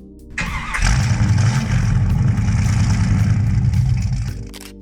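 A Pontiac 389 cubic inch V8 engine cranks and starts, then roars in a loud, deep rumble with steady revving before cutting off near the end.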